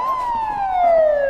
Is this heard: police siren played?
yes